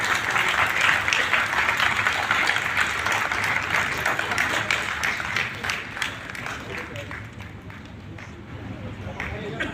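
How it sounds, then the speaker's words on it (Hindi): An audience claps steadily at a ceremony launching a website, dense sustained applause that fades slightly toward the end while a voice speaks over it. "ये तालियां बजाकर उस टीम को बधाई देते हैं जिसने ये वेबसाइट तैयार की है"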